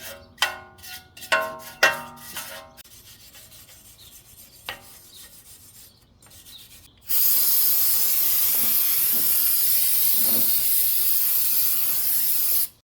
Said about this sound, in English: I'm just gonna use some brake part cleaner,